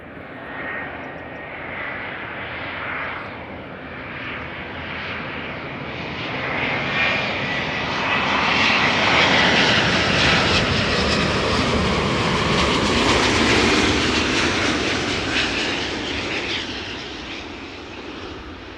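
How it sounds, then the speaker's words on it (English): A Delta Air Lines Airbus A350 on a flight from Detroit arrives and lands, its jet roar swelling loud and near before easing off as it rolls out, with no voices over it. "A350 time, Delta Airlines flight 136, arriving from Detroit, Michigan."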